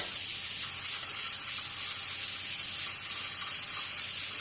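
Steady, loud sizzling of chili powder frying in hot oil, a continuous hiss with no talk.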